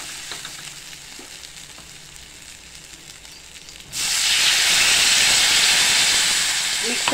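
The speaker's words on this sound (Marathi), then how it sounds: "आता आपण पाणी टाकणार आहे ह्याच्यामध्ये" Water hits a pan of frying eggplant curry, bursting into a loud, steady sizzle and hiss after a quieter stretch of low cooking sounds.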